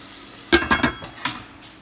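Prawn pulao being stirred in a rice cooker: a few short scraping clinks of a spoon against the pot over a soft sizzle, four quick strokes close by, then a quiet pause.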